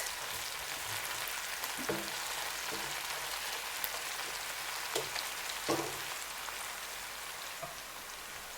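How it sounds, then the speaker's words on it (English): Tomato paste fries in a pot for jollof rice, a steady, rain-like crackling sizzle at a soft level throughout, broken by a few faint knocks, with no talking. "Allow your tomato paste to fry for a while to avoid that characteristic sour taste of tomato paste."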